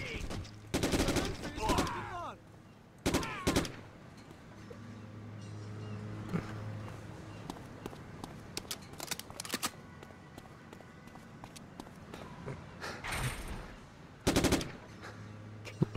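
Bursts of gunfire from a shooting section of the Hidden Target video game: several loud, clustered volleys spread across the span, with quieter game ambience between them.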